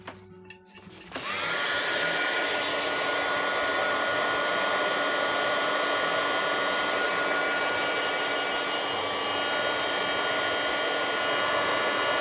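A hair dryer switches on and blows steadily to dry a watercolor painting, a loud, close, continuous whirring hiss that holds for several seconds alone.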